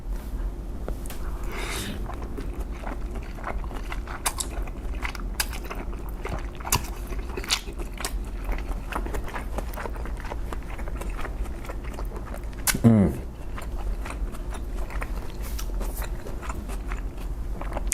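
Korean army stir fry (budae bokkeum) with meat, cheese and rice being eaten in a quiet close setting, with faint soft chewing and biting sounds throughout and a brief louder bite or clatter near the end.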